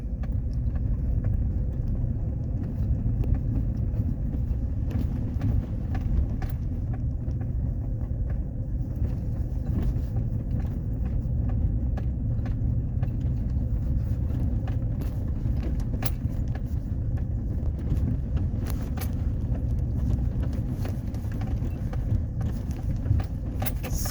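A car rolls slowly along a snowy private road toward a cabin, a low, steady engine and tire rumble heard from inside the vehicle with faint creaks and rattles and no talking.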